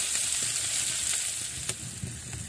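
Onion and garlic sizzle steadily in butter in a pan over an open fire outdoors, a dense, even crackle with a few small pops and stirring sounds.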